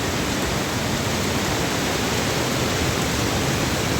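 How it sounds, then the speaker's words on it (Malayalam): Floodwater spilling over the banks of a swollen stream in a submerged area, a steady, dense broadband rush that holds unbroken and fairly close for the whole stretch, with no voices over it. "അവിടെ നിന്ന് ഇങ്ങോട്ടൊക്കെ കര കവിഞ്ഞൊഴുകുന്നു"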